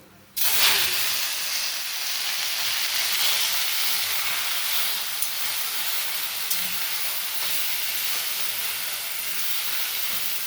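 Leaves drop into hot oil tempered with mustard seeds and dried chillies in a wok, setting off a sudden loud sizzle that holds as a steady, close hiss of frying with no talk.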